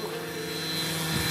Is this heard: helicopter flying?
yes